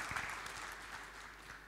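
Congregation clapping during a Sunday worship service, a faint, distant wash of applause with a few louder claps near the start, low in level and continuous.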